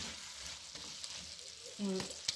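Minced meat with green chillies fries in a pan as a spoonful of butter melts into it. A soft, steady sizzle continues with faint stirring scrapes, and a brief clink comes near the end.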